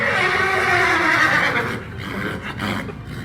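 A horse neighing sound effect, a loud whinny with a descending harmonic cry that fades into breathy snorting toward the end, heard alone without talk.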